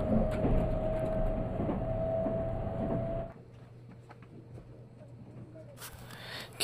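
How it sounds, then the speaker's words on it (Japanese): A Nankai Rapi:t express train rumbles loudly along the tracks with a steady hum, then the noise drops abruptly as it passes through a station, leaving a quieter running drone. "この電車は堺市の主要駅もね、ボンボン通過していくということでね"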